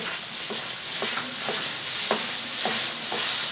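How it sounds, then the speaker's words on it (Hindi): Sugar being stirred into pethe halwa (ash gourd pudding) in a pan, with a steady background sizzle and a series of soft, regular spoon scrapes roughly every half second. "हम इसमें 100 ग्राम चीनी और डालेंगे और इसे भी अच्छे से मिक्स कर लेंगे"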